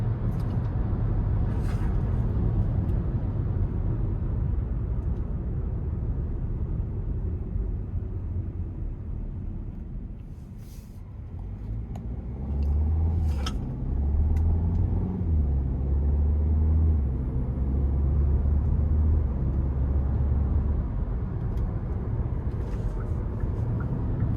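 The 1.6-litre turbo four-cylinder of a 2026 Hyundai Kona SEL Premium FWD pulls under load as a steady low engine drone inside the cabin. The drone rises and swells partway through, with some road rumble underneath.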